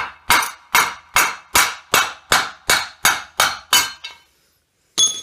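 Steady hammer blows knock a worn bearing out of a Piaggio Ciao moped engine case, ten sharp metallic strikes in an even rhythm, then a pause and one more hit, close and loud with no talk.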